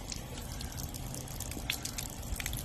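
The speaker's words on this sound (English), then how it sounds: "I have a helper who's going to pour the water out for me" Water being poured out of a Princess House #10630 barbecue disc after cleaning, a steady low splashing and trickling with a few faint drips, continuous and close, with no talking.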